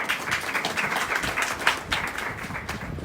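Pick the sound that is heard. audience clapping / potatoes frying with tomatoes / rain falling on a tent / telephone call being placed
audience clapping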